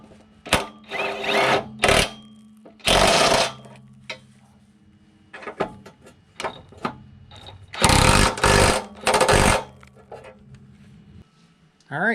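Ratchet or power tool cinching 14 mm bolts on the fuel tank straps of a Mazda 3, loud close bursts of whirring with pauses, interleaved with a voice talking.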